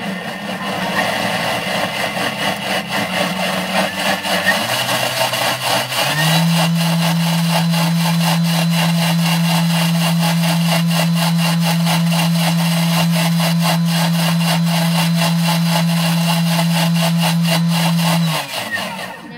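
A Thermomix blends strawberries for strawberry vodka shots, giving a loud, steady motor whir that changes pitch after a few seconds, then holds an even high-speed drone for about twelve seconds before stopping.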